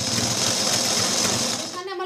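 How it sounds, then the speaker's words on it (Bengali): A sewing machine stitches close along the edge of lungi cloth, a dense rapid mechanical whirr that runs steadily and close by, then slows and stops near the end. "আমি একদম ধার দিয়ে সেলাই দিচ্ছি"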